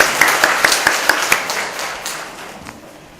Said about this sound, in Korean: 우리 하나님께 박수로 영광, 모든 영광을 돌리겠습니다.